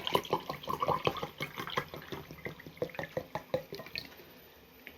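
Water runs from a kitchen tap in a busy splashing patter that sounds close and fairly quiet, with irregular drips and spatters that thin out toward the end.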